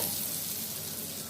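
Whole garam masala spices sizzle steadily in hot butter mixed with refined oil, a dense, even crackle close by with no talking, for a little over a second.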